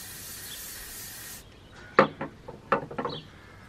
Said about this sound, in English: you spray hairspray on this stickiness and it's meant to just peel off